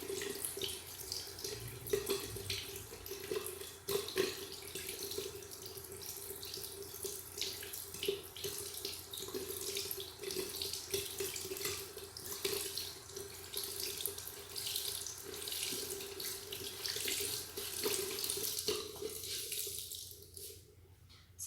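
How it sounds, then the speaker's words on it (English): Tap water runs steadily over a konjac sponge at a sink, a continuous close splashing hiss that lasts throughout and cuts off near the end. "I left that clip in here of me running water over it"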